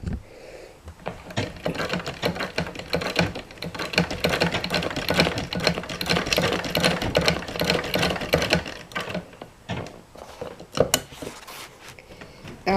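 A sewing machine on a kitchen sewing table stitches fabric for a dog training dummy cover, with a steady fast mechanical chatter that runs close and continuous with brief slowdowns.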